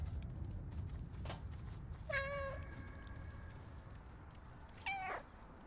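Two distinct cat meows from the player's cat in the video game Stray, each a short wavering cry, the second shorter, heard clearly over a low steady background ambience with no talking.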